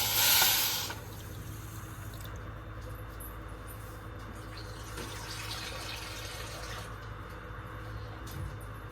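Water from a cup is poured into sugar in a pan, making syrup for gulab jamun: a brief louder splash at the start, then a steady low trickling hiss that runs on alone.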